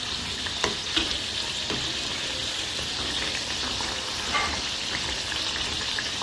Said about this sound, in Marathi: लहान गॅसवर ह्याला छान तळून घ्यायचे.